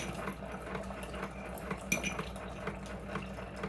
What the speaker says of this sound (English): I'm going to put a couple of teaspoons of sugar in here.